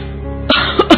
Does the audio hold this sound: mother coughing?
yes